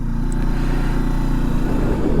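A Voge 525 DSX motorcycle being ridden, its engine holding a steady, close, droning note with no voices.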